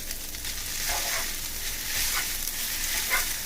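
Lo mein vegetables frying in a hot pan, a loud, dense close sizzle with rhythmic stirring swishes throughout.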